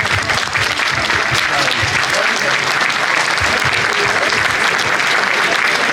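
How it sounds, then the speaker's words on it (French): Dense, sustained applause from a large crowd at a farmers' mobilization rally, steady and loud throughout with no pauses. "et vous pouvez vous applaudir."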